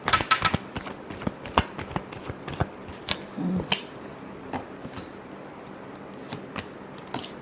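Tarot cards shuffle in a run of crisp riffling flicks and taps, close and fairly quiet, thinning out toward the end with no talk.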